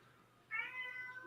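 A cat gives a single drawn-out meow, fairly close and clear, rising then trailing off over a soft background hum, with no talking.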